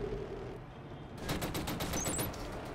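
Rapid automatic gunfire in the video game Killzone Shadow Fall, a rattling burst of closely spaced shots that starts partway in and continues to the end over a low background rumble.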